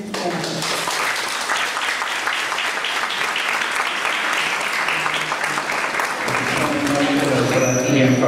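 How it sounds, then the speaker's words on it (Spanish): Loud, dense applause from a conference audience in Peru fills the hall steadily for about eight seconds, with some voices mixed in near the end. "brindando nuevamente un fuerte aplauso"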